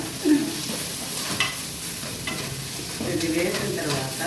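Ginger garlic paste fries in a pan while a spoon stirs it through, making a steady close sizzle with scraping strokes throughout.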